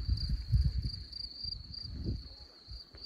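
Crickets chirp steadily through a rural village evening, a continuous high trilling that runs the whole time beneath low rustling and handling noise in the foreground.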